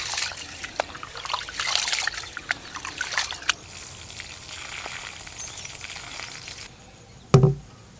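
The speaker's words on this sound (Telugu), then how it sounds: "కేజీ బాస్మతి రైస్ అండి, శుభ్రంగా కడుక్కొని ఒక 20 నిమిషాల పాటు నానబెట్టుకుందాం." A kilo of basmati rice is rinsed in water, with soft trickling, sloshing and small splashes over the first seconds, then a quieter stretch and one sharp knock near the end.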